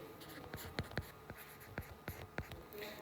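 Maths working for simultaneous equations is written out by hand, a pen or marker tapping and scratching in quick, close, irregular strokes with brief pauses, quiet and with no voices.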